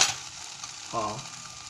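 Low-carb shirataki noodles fry quietly in an oiled pan, giving a soft, steady sizzle with a brief louder burst of crackle partway through, close and without talk.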